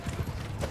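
A horse in Mount & Blade II: Bannerlord gallops with quick, rhythmic clip-clop hoofbeats in a brief, close burst.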